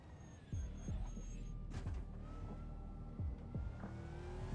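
NASCAR stock car at Bathurst in a racing game, engine note rising and falling under throttle with low thumping pulses and a few sharp bursts, moderately loud, no talk.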